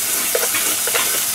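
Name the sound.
chashu pork frying in a pan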